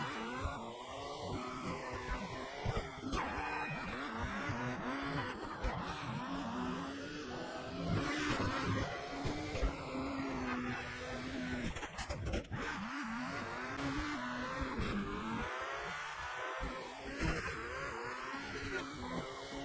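Race cars in a video game roar throughout, with steady whining engines rising and falling as they accelerate, alongside occasional tyre squeals, loud and continuous for the whole stretch.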